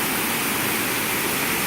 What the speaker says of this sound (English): I like how the water's coming off this rock here.